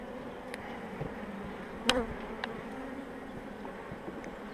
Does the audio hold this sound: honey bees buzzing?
yes